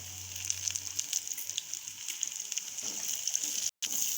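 Ginger garlic paste fries in a karahi with a steady, close hiss of sizzling oil and a faint low hum at the start.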